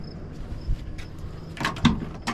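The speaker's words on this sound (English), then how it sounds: "As we open up the door," The door of a 1969 Chevelle Yenko tribute opens with a short metallic latch click and a soft creak, heard fairly quiet and close with faint background noise.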